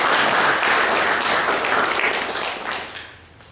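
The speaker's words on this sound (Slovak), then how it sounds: "Takže poprosím aj potlesk." An audience at a winter folk festival breaks into dense, loud applause that holds steady, then thins and fades toward the end.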